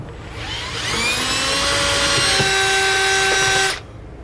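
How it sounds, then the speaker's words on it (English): A power drill bores holes through the steel frame of a 2017 Newmar Canyon Star motorhome, whining up to a steady high-pitched pitch for about three seconds, close and loud, then cutting off abruptly. "I'm going to go ahead and drill out all the other holes."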